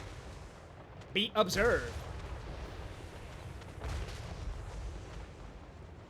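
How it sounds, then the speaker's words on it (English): Off-map artillery support fires in Total War Warhammer 3, a quick burst of booming shots followed by a descending whistle, with a voice talking over the battle noise. "Off-map artillery support."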